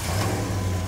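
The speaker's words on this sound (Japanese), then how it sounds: "エンジンかけてみてください" A first-generation Dodge Durango's engine runs with a steady, deep low rumble close by, a brief steady burst with no talk over it.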